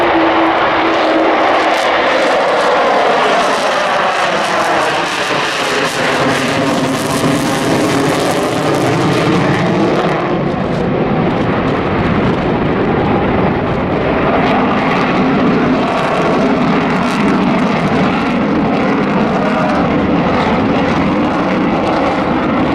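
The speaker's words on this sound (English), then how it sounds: "4 Rolls-Royce Olympus 202 engines," An Avro Vulcan bomber with four Rolls-Royce Olympus 202 engines roars loudly overhead in a spiral climb at an air display. Its jet noise sweeps and shifts pitch as it passes, then settles into a broad, sustained roar.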